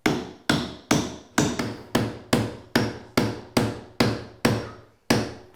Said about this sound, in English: but I'm gonna nail this whole thing off